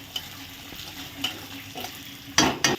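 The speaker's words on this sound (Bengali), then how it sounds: "এখন ভালো করে ভেজে নেব চালটা লাল লাল করে" Gobindobhog nuniya rice fries in a pan, a low, even sizzle under light stirring. A couple of louder scraping strokes land near the end, close and brief.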